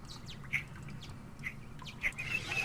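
Birds chirping in a pixel-art horror game set in a house, several short, sharp calls spaced irregularly over a faint low rumble, fairly quiet and close.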